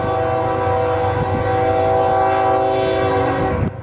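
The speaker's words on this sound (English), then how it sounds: "gets used to the sound of trains coming and going" A train passing through Wichita's North End rail district sounds a long, loud, steady horn blast over rumbling railcars, close by, before the horn cuts off at the end.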